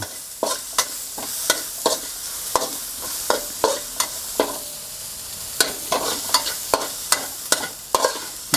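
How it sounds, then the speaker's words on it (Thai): Chili and garlic stir-fry in a pan for pork belly kaphrao, a bright sizzle with a regular series of sharp spatula scrapes and knocks against the pan, close and without voices. "คั่วพริกกับกระเทียมเราให้หอมก่อนเลย"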